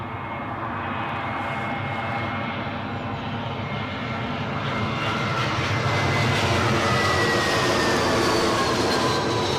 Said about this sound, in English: Inbound from Lyon next, Kings of Leon, a A320 in British Airways colours.